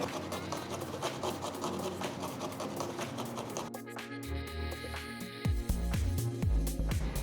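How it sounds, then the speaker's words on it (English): Steady rasping scrape of garlic cloves being rubbed over a grater for a Lachha paratha filling, a quick repetitive rhythm close up, then a brief clatter and shift in tone near the end. "first I'm going to grate the garlic"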